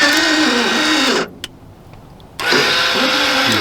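Motor of a Barker electric RV sewer valve running rough on direct power and ground wires, a loud close whirring drone that cuts out for about a second and then resumes.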